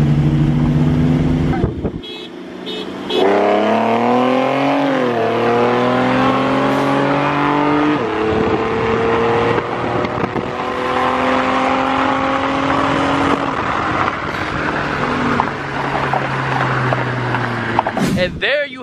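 Two cars race, a modified 4.0-liter V6 Ford Mustang against a stock 2019 Honda Civic Si, with loud engines revving and climbing through repeated gear shifts close by, a steady roar of acceleration that runs nearly the whole time.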